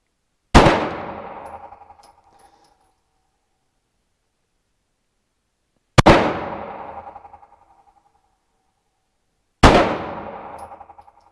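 Three loud, close pistol shots from a Beretta model 1951, spaced several seconds apart, each a sharp crack followed by a ringing decay.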